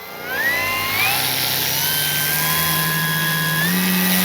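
Durafly Excalibur V2 electric RC plane motor held at half throttle, a steady loud whining drone with rising pitch sweeps that settles into a sustained buzzing tone, alone without talk.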